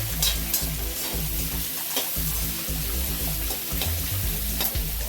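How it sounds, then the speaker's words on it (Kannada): Onions fry in hot oil in a pan while being stirred, a dense continuous sizzle with scraping stir strokes throughout, close and loud. "ಮತ್ತು ಸ್ವಲ್ಪ ಎಣ್ಣೆ ಹಾಕ್ಬಿಟ್ಟು ನಾವು ಈರುಳ್ಳಿನ ಚೆನ್ನಾಗಿ ಫ್ರೈ ಮಾಡ್ಕೊಬೇಕು."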